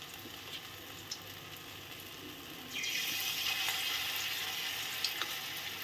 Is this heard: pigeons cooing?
no